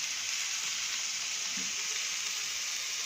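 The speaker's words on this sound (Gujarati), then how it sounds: "અને સારી રીતે ફ્રાય થવા દઈશું." Two tomatoes frying in a pan with other roughly cut ingredients, cooked for a thalipeeth recipe; a steady, soft sizzle runs throughout at low level with no voices.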